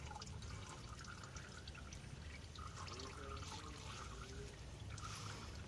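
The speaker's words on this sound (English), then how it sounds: "we drain all the oil" Engine oil drains from a Toyota car in a continuous faint liquid trickle and patter that holds steady throughout, with no voices over it.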